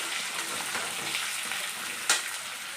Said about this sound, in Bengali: মাছ ভাজা তেলের মধ্যেই পটলটা ভেজে নিচ্ছি আমি